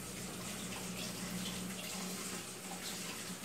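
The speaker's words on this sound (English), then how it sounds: "Let me wash my hands." Tap water runs steadily from a faucet as hands are washed in a kitchen during baking, a continuous, even rushing hiss with no talking.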